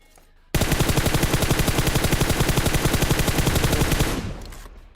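Sustained rapid gunfire in the mobile battle-royale game PUBG Mobile, a loud continuous burst of closely spaced shots running for several seconds before cutting off and fading into a short tail.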